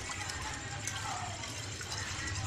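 Water pours steadily into a container as the liquid is changed during preparation of a traditional herbal remedy, a continuous close splashing gush lasting the whole moment with faint voices underneath.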